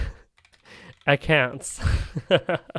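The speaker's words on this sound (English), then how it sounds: "Not a bad keyboard to type on though, hey?" Computer keyboard keystrokes clicking in quick bursts at the start, fairly close, then someone talks over further light typing.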